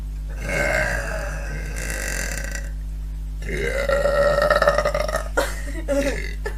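Two women burping, heard close and loud: one long belch followed by a second drawn-out, rumbling burp with a few short trailing bursts at the end.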